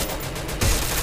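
Gunfire in a video game rattles in a dense burst, with a heavier blast joining about halfway through, loud and continuous with no voice over it.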